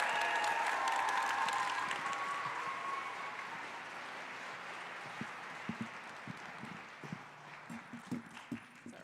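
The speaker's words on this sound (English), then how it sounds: "Let's get another round of applause for them." Audience applause for dancers at an international dance festival show, a dense wash of clapping that thins and fades over several seconds, leaving scattered individual claps at the end.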